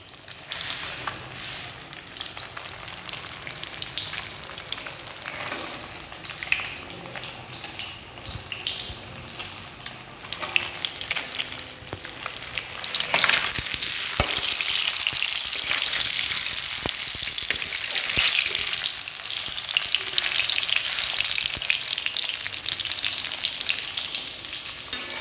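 Rohu fish frying in a pan for a kalia curry, a steady close sizzle of hot oil running throughout and growing somewhat louder and busier partway through, with occasional faint clinks.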